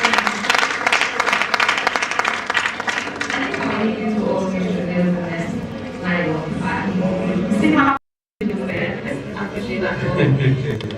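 Conference audience applauding at a JCI national conference theme session in Abeokuta, a dense, sustained roar of clapping mixed with voices, broken by a brief dropout near the end before resuming.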